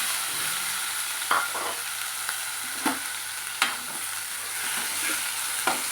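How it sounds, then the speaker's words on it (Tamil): Green beans frying in a pan with dried red chilli, giving a steady soft sizzle broken by several distinct scrapes and knocks of a spoon stirring them. "இப்போ இந்த பீன்ஸ் வந்து இதில் சேர்த்துடலாம்."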